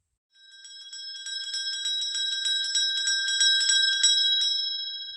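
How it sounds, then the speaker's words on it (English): A bright bell rings in a rapid series of metallic strikes for about four seconds, heard alone and clear, then fades out. "Right, that's the sound of a bell."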